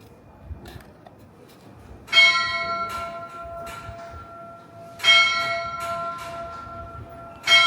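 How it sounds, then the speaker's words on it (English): A clock bell at Greenwich chimes noon in three loud, ringing strikes about three seconds apart, each with a bright metallic attack and a long sustained hum. It is heard outdoors with faint background noise. "it is almost noon, and this thing is going to chime"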